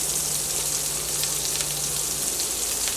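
Ground masala sizzles in hot oil in a pan for egg curry, a dense, steady crackling hiss held close and constant throughout, with no talking over it.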